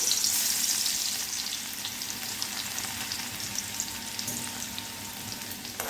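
Two spoonfuls of coarsely crushed garlic sizzle steadily in hot oil while making garlic-flavored puffed rice chevdo, a close, continuous frying hiss with faint stirring, no talking.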